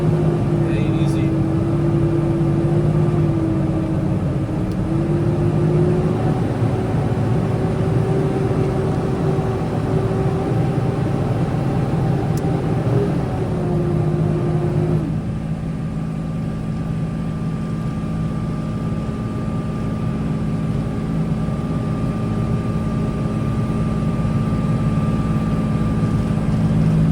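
A car driving through hilly, fire-damaged Malibu, its engine droning steadily with a rising and falling tone as it climbs, road noise constant throughout and talk heard over it.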